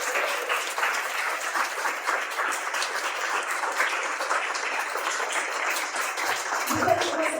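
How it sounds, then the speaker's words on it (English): Steady, dense applause and clapping from an audience at a New York City meetup runs throughout, loud and close, with a brief low thump near the end. "A round of applause for those."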